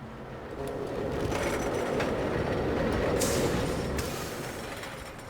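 Roller coaster trains with test dummies run along the track in the Planet Coaster building game, giving a steady rolling rumble that swells and fades over a few seconds with faint high-pitched squeals, no talk.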